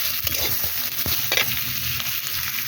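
A spatula stirs sim beans and potatoes in a pan over a clay stove, with a steady close sizzle of frying and scraping strokes running throughout.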